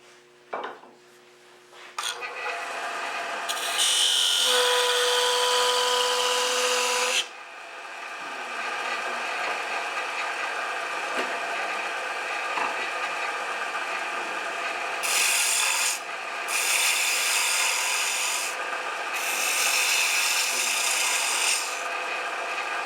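Continuous rasping scrape of a spindle gouge cutting a wooden Christmas ornament spinning on a lathe. The scrape comes in long passes that stop and start, up close and loud, with the motor's steady whine beneath and no talking.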